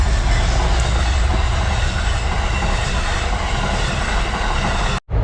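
Two fast freight trains roar past at close range, a dense, loud, unbroken rumble of wheels and cars that fills the whole stretch before cutting off abruptly at the end.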